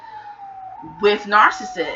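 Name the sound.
emergency vehicle sirens in New York City background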